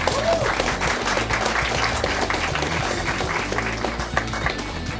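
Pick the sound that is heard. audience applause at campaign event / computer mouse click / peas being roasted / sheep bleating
audience applause at campaign event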